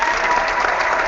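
Hands clapping steadily through a short, dense burst, a continuous patter like applause at an online business chat, fairly loud with no talk over it.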